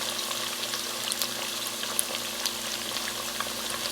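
Chicken pieces for Jamaican-style curry chicken frying in a pot, a steady, dense sizzle and crackle of hot oil with scattered pops, close up and continuous, no talking.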